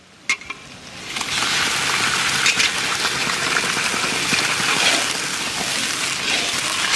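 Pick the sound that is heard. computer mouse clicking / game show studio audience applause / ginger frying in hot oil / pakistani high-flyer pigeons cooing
ginger frying in hot oil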